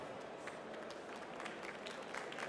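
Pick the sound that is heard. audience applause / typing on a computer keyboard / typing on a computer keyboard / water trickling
audience applause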